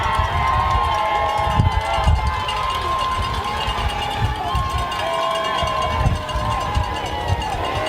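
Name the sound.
crowd cheering at youth football game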